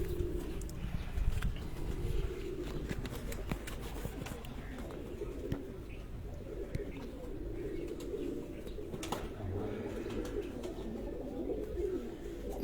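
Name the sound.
pigeons cooing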